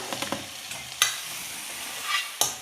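A potato omelette cooks in a frying pan, with a soft steady sizzle broken by a few sharp clatters of the pan being handled, one near the start and another near the end.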